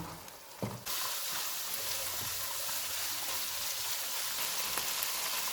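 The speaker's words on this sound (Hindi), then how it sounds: "चूल्हे को मीडियम कर देते हैं, इसको ऑयल अलग होने तक भूनेंगे।" Minced keema browning in oil on a stovetop at medium heat, a faint, even hiss that holds steady throughout after a brief quieter opening.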